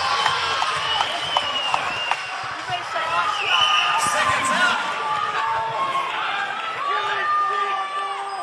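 A crowd at a Muay Thai Grand Prix fight night in Australia roars and cheers continuously in a busy arena, with commentators talking over the noise.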